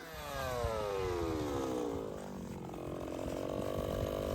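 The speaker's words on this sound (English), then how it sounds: "We need some strong people to run the gas-powered tappers or large wood drills" A heavy gas-powered tapper, a large wood drill of about twenty pounds, drills into maple trees with a loud, steady engine whine whose pitch slides down and then holds, close by and continuous throughout.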